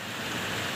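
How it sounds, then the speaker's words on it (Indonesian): Rain falls steadily in a dense, even hiss during a short stretch with no voices, recorded near a Kansai Special waistband sewing machine setup. "Ini maaf ya suaranya agak sedikit berisik ya, karena pas turun hujan."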